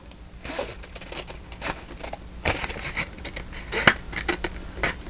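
Scissors snip and crunch through craft paper while making paper pockets, a series of irregular close cuts and rustles, fairly quiet, without talk.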